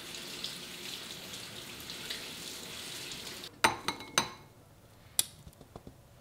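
Black beans for beef in black bean sauce are rinsed under a running tap, a steady wash of water that cuts off and gives way to several sharp clinks and knocks of a colander or pan in a sink.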